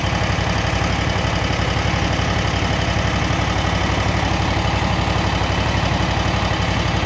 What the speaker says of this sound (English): we're gonna move the stick slowly to the full forward position